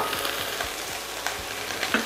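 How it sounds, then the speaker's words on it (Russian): Vegetables hit very hot, nearly smoking oil in a pan, giving a steady close sizzle and frying crackle with a few stirring scrapes and small pops over about two seconds. "Наш масло почти коптит, очень горячий, и жарим."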